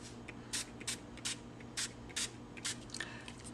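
Several short bursts of spraying liquid onto paper flowers being damped before crumpling, hissing in an irregular rhythm at close range with no talk.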